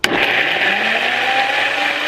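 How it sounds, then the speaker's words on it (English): A NutriBullet blender whirs steadily as it blends cashews, a loud, continuous motor drone with a sharp start and no pauses, heard alone without voices. "I blend everything together."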